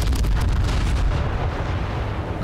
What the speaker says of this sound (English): You just gonna lead us into the bombs and hope we all die?